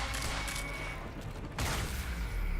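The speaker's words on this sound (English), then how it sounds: "Got that with the shotgun." Shotgun blasts in the video game Quantum Break, dense booming gunfire layered over continuous game noise and effects, loud and sustained with no clear gaps.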